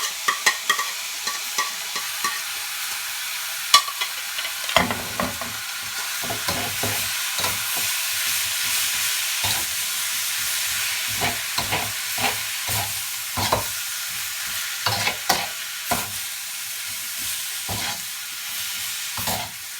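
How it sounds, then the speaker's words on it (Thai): Bamboo shoot salad being stir-fried with pork and ginger leaves: steady sizzling throughout, broken by repeated scraping, clattering spatula strokes against the pan, fairly close and moderately loud. "เสร็จแล้วเดี๋ยวก็จะเอาไปผัดใส่หมู"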